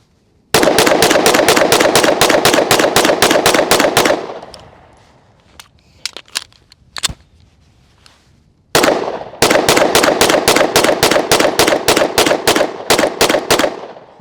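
Rapid strings of shots from an RM1C Comp pistol with an integrated compensator, firing AAC ammo at steel targets outdoors: two loud, fast volleys of about a dozen shots each, separated by a quiet pause with a few faint metallic pings.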